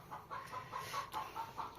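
Hens cluck nearby in a repeated run of short, soft calls on a farm where the birds are laying eggs. No one talks over them.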